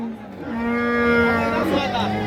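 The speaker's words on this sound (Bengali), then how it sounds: "এ গরুটা কি জাতের জার্সি জাতের গাবি" A Jersey dairy cow at a cattle market lets out one long, loud, drawn-out moo, close by and without any talking.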